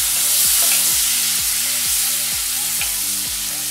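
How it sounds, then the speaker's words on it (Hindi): Cubes of paneer frying in butter in a pan, giving a loud, steady sizzle and hiss. A rhythmic low hum sweeps beneath it about every half second, and no one speaks. "पनीर को फ्राई कर लेते हैं।"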